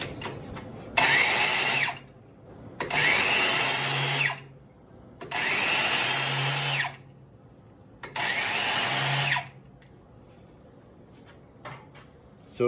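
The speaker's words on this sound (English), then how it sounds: "So he's getting ready to grind seats now." A valve seat grinder works on an engine cylinder head, running in four separate bursts of a few seconds each, a high whirring grind with short quiet gaps between passes.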